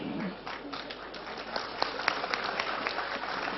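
Audience applause at an Islamic religious lecture by K.H. Hasyim Muzadi: a steady wash of clapping from a large crowd that grows denser and sharper toward the end, with no voice over it.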